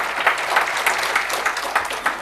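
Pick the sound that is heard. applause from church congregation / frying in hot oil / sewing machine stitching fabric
applause from church congregation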